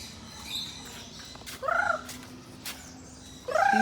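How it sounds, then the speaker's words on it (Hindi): Short, harsh golden pheasant calls ring out twice against a quiet background, each a brief rising squawk, fairly close. "golden pheasant"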